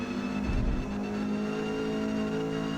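Ford Cortina racing in D class at Mid Ohio in Forza Motorsport, its engine humming at a steady, sustained pitch with a brief louder swell early on, continuous and close throughout.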